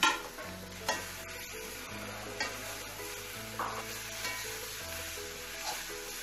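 Minced chicken filling being stirred in a frying pan with masala, a steady low sizzle under repeated spoon or spatula scrapes and soft clacks against the pan, close and moderately quiet with no talk.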